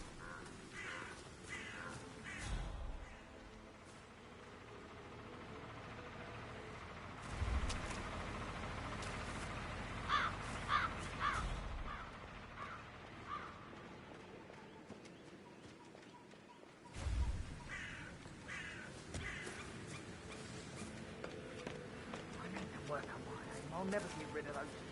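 Crows caw in short repeated bursts across the Dartmoor estate in Hitman 3, heard under ongoing game dialogue, with ambient outdoor sounds and occasional louder thumps.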